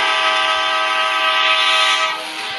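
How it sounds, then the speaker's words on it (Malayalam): Train running in the mobile driving game Indian Bike Game 3D, a loud continuous horn-like tonal blare over rumbling rail noise that holds steady, then eases slightly near the end, with no talking. "നമ്മൾ ട്രെയിൻ ഓടിക്കുകയാണ്."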